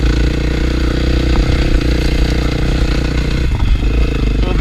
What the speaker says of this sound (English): out on the dirt bike, guys.